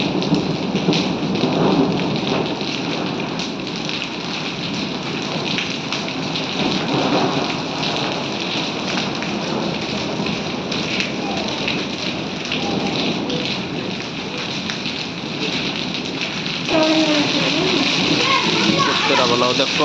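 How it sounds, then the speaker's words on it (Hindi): A hailstorm with heavy rain and thunder pounding down on a field of mustard crops, a loud dense clatter and downpour with rolling rumbles, while someone talks over it in Hindi. "देखो भाइयों कितने ओले पड़ गए एक साथ।"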